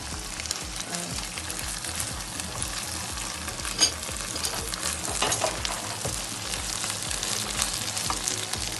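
Chopped bell pepper sizzles in a hot pan and is stirred, a steady close crackle with scraping stirring strokes and no voices, while a creamy chicken and tomato pasta is being made.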